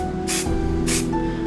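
Two short, loud hissing bursts of spray primer aimed at a miniature figure, evenly spaced over a low steady background hum, with no talking.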